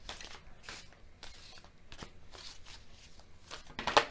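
Akashic Tarot cards are shuffled by hand in a series of quick riffling bursts with short pauses between them, close and fairly soft, ending in a sharper snap.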